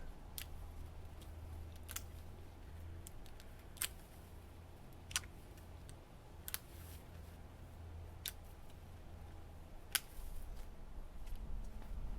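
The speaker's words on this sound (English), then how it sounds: "I'm cutting right back to the main stalk." Pruning shears snip Japanese maple branches back to the main stalk in a garden, giving about a dozen crisp, close clicks spaced irregularly over a low steady background hum.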